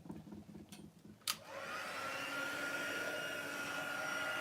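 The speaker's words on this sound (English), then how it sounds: "I'm just going to heat that with the heat tool until it goes nice and shiny." A heat tool melts embossing powder on a handmade birthday card. A couple of small clicks come first, then the tool switches on with a close, steady, loud blowing whir that continues evenly to the end.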